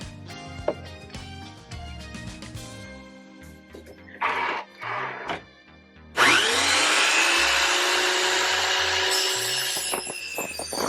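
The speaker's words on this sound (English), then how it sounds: "now we're ready to cut it at the chop saw" A chop saw cutting plywood starts with tool handling and short bursts, then the blade spins up and cuts in a loud sustained whine that slowly winds down.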